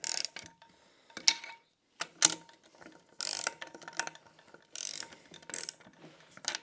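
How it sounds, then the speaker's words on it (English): A ratchet wrench clicks in short bursts of rapid pawl ratcheting, separated by brief pauses, close and clear, as bolts are tightened evenly in a crisscross pattern on a Polaris Sportsman 570 engine during a rebuild. "we'll just kind of torque these down evenly first, and a crisscross pattern"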